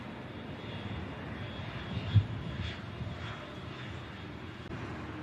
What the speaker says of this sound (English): Next in from Bordeaux with EasyJet.